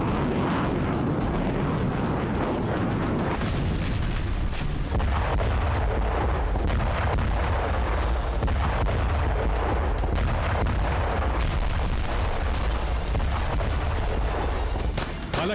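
Artillery and tank fire in a battle involving Russian forces near Chasiv Yar: a continuous heavy rumble packed with repeated booming blasts, loud and dense throughout, with no voices.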